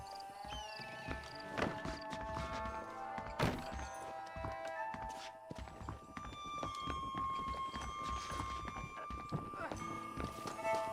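A horse in Red Dead Redemption clip-clops along in a steady hoof rhythm, heavier thuds breaking in early and a faster galloping beat in the second half, with people talking over it.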